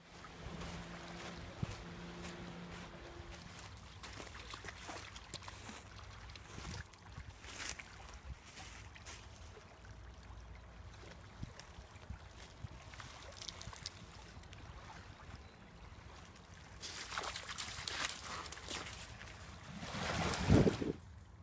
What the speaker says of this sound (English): The sound of the water, isn't it just beautiful?